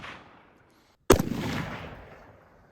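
A single loud AR-15 rifle shot with a muzzle device cracks out after a second of quiet, followed by a booming echo that fades over the next second or so.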